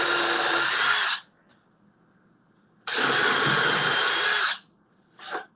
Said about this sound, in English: drill down till you'll feel it touch the board, and then keep pushing the trigger down and pull it straight out